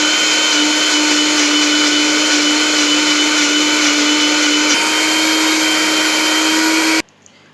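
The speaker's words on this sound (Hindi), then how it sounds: "तो देखिए फ्रेंड्स, ये पीनट हमने इसमें ले लिया है। नाउ हम इसको ग्राइंड करेंगे।" Peanuts are ground in an electric grinder, a loud steady motor whine with a constant pitch that runs for about seven seconds and then cuts off abruptly, with no voices over it.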